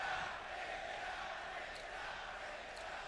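A large arena crowd at the Boston ELEAGUE Major 2018 Counter-Strike match between FaZe Clan and Cloud9 keeps up a steady, distant roar of cheering and chatter.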